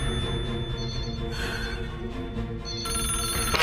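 A telephone rings insistently in a tense indoor scene, a repeated electronic trill sounding loudly over a music and background bed, with no talking.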